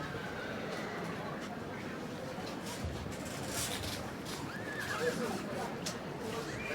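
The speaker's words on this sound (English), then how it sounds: "Little Shetland stallion going now." A little Shetland stallion in the show ring at the Royal Welsh Show gives a few whinnies over the murmur of the arena, with hoof clops and crowd and announcer voices in the background.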